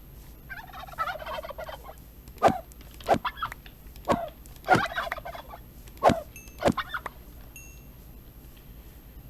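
A modded chicken-like creature in Minecraft gives a run of sharp gobbling clucks, about six loud bursts spaced roughly a second apart, close and clear over a low game hum, with no talking.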